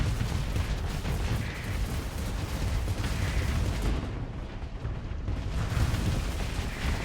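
Sustained weapon fire and explosions in the space combat game Starsector, dense rumbling booms and blasts layered into a continuous loud barrage with no clear pauses.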